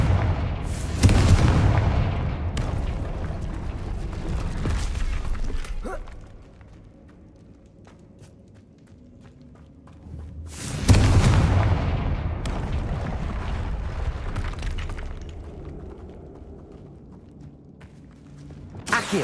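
Two heavy fiery blasts from the Confringo spell in the video game Hogwarts Legacy, each a loud booming burst with a long rumbling tail, the second arriving about ten seconds after the first.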